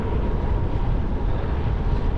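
Strong crosswind roaring against the microphone while cycling on a road, a steady, loud, broadband rush with no talk.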